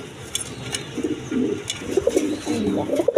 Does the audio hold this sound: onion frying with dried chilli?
no